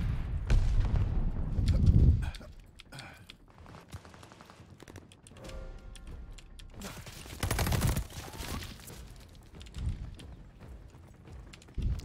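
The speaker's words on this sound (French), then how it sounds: "Je lance une grenade." A grenade blast and scattered gunfire in Call of Duty Vanguard: a heavy boom at the start, then quieter clicks and shots, a second loud burst midway, and fainter reports afterward.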